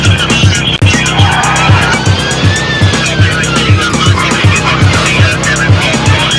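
Speeding transit van in a police chase, pursued by an Evo, two Volvos and a Yamaha: a loud, steady engine roar with rhythmic low pulsing and rising tire squeals and skids, close and continuous with no talk.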